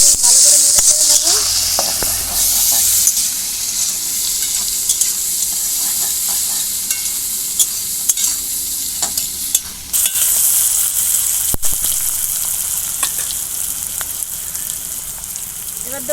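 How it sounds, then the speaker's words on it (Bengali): Onions fry loudly in hot oil for a dhaba-style egg curry, a dense continuous sizzle with the scrape of stirring running throughout, close and unbroken. "এবার দেবো পেঁয়াজ, পেঁয়াজটা দিয়ে ভালো করে নেড়ে চেড়ে নেব।"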